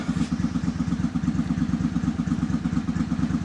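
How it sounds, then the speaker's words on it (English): An old motorcycle engine idles steadily in the background of a workshop where an 1891 Tula Mosin rifle is being assembled, producing a rapid, even low thumping pulse that continues unbroken throughout. "you got the old motorcycle running in the background."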